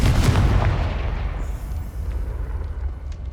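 A Confringo blast spell explodes in Hogwarts Legacy with a loud, booming burst right at the start, then a rumbling decay that fades into low, lingering ambience.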